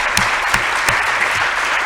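Audience at an opening conference lecture applauding: dense, steady clapping from a crowd, even in loudness throughout, with no speech over it.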